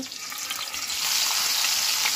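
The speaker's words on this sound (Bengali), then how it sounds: "এখন আমি মাছ দিয়ে দেবো ভেজে নেওয়ার জন্য" Lalon tika fish goes into a heated pan of hot oil for frying, giving a continuous bright sizzle that swells louder partway through and holds steady, with no talking.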